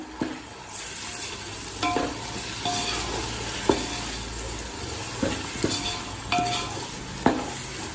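Chopped tomatoes and onions sizzle steadily in a hot pan while a spoon stirs and scrapes, giving repeated clinks against the metal over the constant frying hiss.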